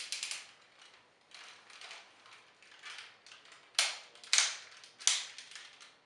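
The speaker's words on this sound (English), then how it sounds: "Very loud ratcheted forward and back knees as well." Ratcheted knee joints of a Transformers Energon Megatron toy being flexed, giving loud, crisp clicking bursts in uneven groups, with a few sharper, louder clicks near the end, heard alone and close.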